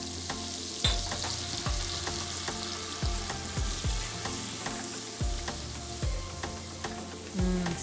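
Butter melts and sizzles in a warm pan while apple pie is being made, a steady crackling fry with occasional stirring scrapes and soft knocks, close and moderately loud, with no voices.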